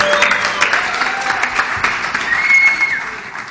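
An audience at a live quiz show bursts into steady, energetic applause for a team, a continuous close clatter of many hands lasting a few seconds.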